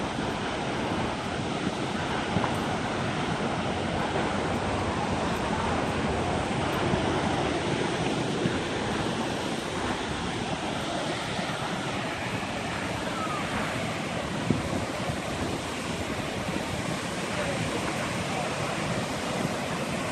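Rushing water from a waterfall heard up close, a dense steady broadband roar with gusting wind buffeting the microphone, constant and loud throughout without any speech.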